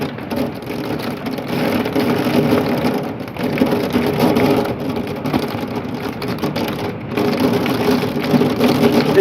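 A severe thunderstorm lashes a house with heavy rain and marble-sized hail, making a loud, continuous drumming and hiss that swells and dips with gusts, with no talk.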